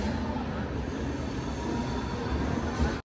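Inside the Charminar Express running at speed, a steady loud rumble of the train carriage fills the air, with faint wheel squeal and rattling throughout.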